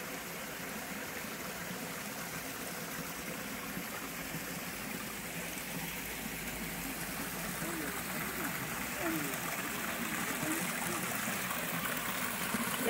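Stream water flowing near a waterfall in a redwood forest, a steady continuous rush and trickle that swells slightly toward the end, heard alone.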